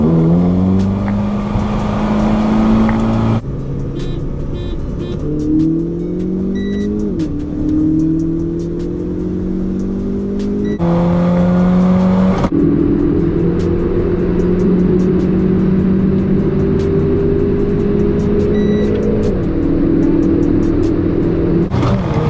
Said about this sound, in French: Opel Speedster 147 chevaux